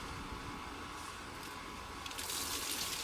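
Continuous rushing water drains through an inground pool's drain, steady and fairly loud, swelling slightly stronger near the end, with no voices.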